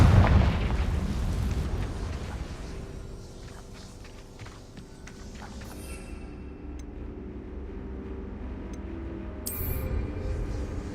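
Confringo fire spell blasts in the Hogwarts Legacy video game: a loud explosive boom at the start, followed by rumbling debris and scattered crackling impacts that fade, with a brief bright burst near the end.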